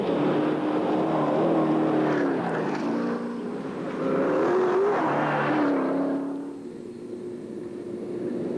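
Big V8 Piranha rally car at speed on a London to Sydney marathon stage, its loud engine droning and rising in pitch as it accelerates, then fading as it pulls away.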